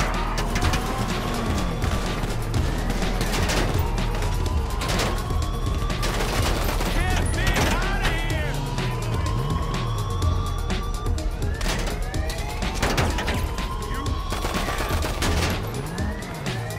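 Sustained gunfire from GTA V aimed at a locked prison gate's entry system during the Prison Contract auto shop job, with an armored Karuma nearby: dense, loud bursts of rapid shots over engine rumble, crashes and game sound effects, without pause.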